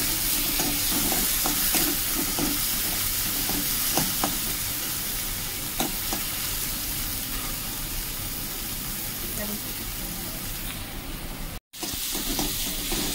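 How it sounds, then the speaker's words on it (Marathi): Onion and tomato sautéing in hot oil give a loud, dense, continuous sizzle, with occasional stirring clicks and a brief dropout near the end. "तेल कांदा थोडंसं परतून घ्यायचं."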